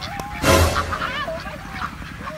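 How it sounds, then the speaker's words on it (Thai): Several ducks honk and quack close by around a person on a farm, a burst of loud calls followed by scattered, softer ones. "แม่โดนเป็ดล้อมแล้วแม่โดนเป็ดล้อมแล้ว"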